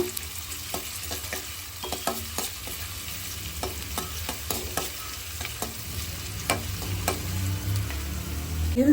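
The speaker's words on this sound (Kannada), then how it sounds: "ಇದಕ್ಕೆ ನಾನು ಈರುಳ್ಳಿ ಹಾಕ್ಕೊಳ್ತಾ ಇದ್ದೀನಿ ಈರುಳ್ಳಿ ಚೆನ್ನಾಗಿ ಫ್ರೈ ಮಾಡ್ಕೋಬೇಕು" Onions fry in hot oil for a Kannada-style sambar, giving a continuous close sizzle broken by repeated spatula scrapes and taps against the pan, with the frying swelling louder near the end and no speech.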